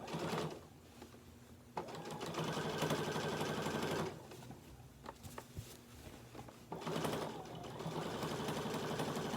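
A sewing machine stitches through a quilt sandwich with a steady, fast mechanical whir, running in long stretches broken by short pauses before starting again.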